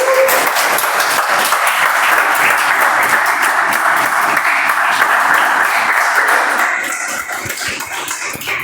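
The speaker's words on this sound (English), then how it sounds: "So huge round of applause for all of us together," Sustained applause from the audience at a Toastmasters club speech-marathon meeting, dense steady clapping at full volume for most of the stretch, easing slightly toward the end.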